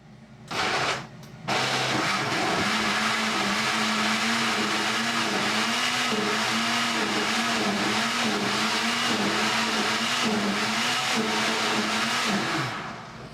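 A kitchen blender whirs loudly as it blends a juice smoothie for a healthy breakfast, with a couple of short bursts first and then a steady, continuous roar that wavers slightly in pitch before winding down.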